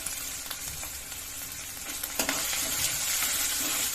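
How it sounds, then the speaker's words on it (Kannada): Ginger garlic paste and curry leaves frying with onion in a pan, a loud continuous sizzle with occasional stirring scrapes, a sudden flare of crackle partway through, no talking. "ಇದ್ರ ಜೊತೆಗೆ ನಾನು ಶುಂಠಿ ಬೆಳ್ಳುಳ್ಳಿ ಪೇಸ್ಟ್ ಫ್ರೈ ಮಾಡ್ತೀವಿ ಕರಿಬೇವು ಸೊಪ್ಪು"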